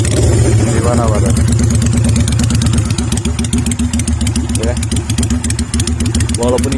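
A fuel-injected Kaisar Ruby 250 custom bobber motorcycle idles with a free-flow exhaust that has no baffle inside, giving a loud, steady, close-up low thumping rumble throughout while someone talks over it.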